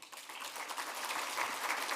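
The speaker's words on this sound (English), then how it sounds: "one more round of applause" A crowd applauding a speaker at a university mental health symposium, a dense wash of many hands clapping steadily at moderate distance.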